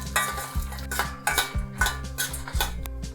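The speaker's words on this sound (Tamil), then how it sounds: "இதில் இப்போ இந்த வரமிளகாயும் சேர்த்து வறுத்துடலாம்." Red chillies dry-roasting in a pan, stirred with a metal spoon in rhythmic scraping strokes about every half second, close and fairly loud, with faint crackle between strokes and no talking.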